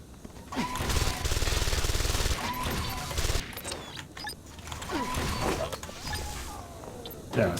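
Submachine gun fire in Deus Ex: Invisible War comes in loud rapid bursts, one long burst followed by shorter rattles, with mechanical clanks and impacts between them.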